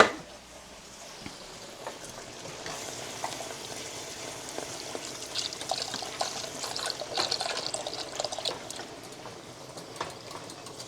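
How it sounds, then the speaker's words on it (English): Beef broth is poured into a hot pan a little at a time. It makes a soft hiss and sizzle with liquid splashing, fairly faint and close, growing busier through the pour. "Now we're going to add our beef broth a little at a time"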